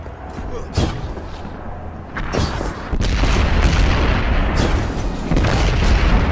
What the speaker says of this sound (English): Using their explosives to blow up their tanks.